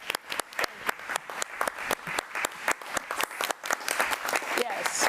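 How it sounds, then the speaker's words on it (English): Audience applause at a school board meeting, a dense run of hand claps with some louder individual claps standing out, steady and fairly close throughout, with voices faintly mixed in beneath the clapping. "please just wave your hand so we can give you a round of applause"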